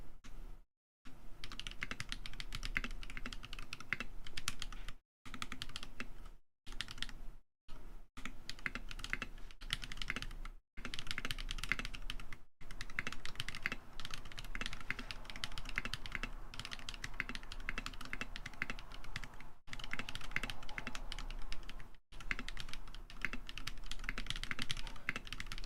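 Fast, continuous typing on a mechanical keyboard with tactile switches, keys clattering in dense rapid bursts broken by a few brief pauses, close and moderately quiet, with no talk.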